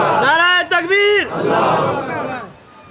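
A single loud voice calls out a rallying slogan at a religious gathering and a large crowd roars back in unison, a brief swell of massed shouting that fades away.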